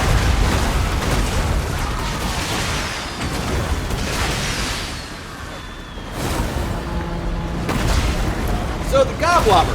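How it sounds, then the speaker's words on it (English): Grudge thrower artillery barrage in the Warhammer video game, heavy booms and rumbling impacts rolling one after another amid battle noise, with a voice talking over the bombardment. "A lot of grudges being thrown."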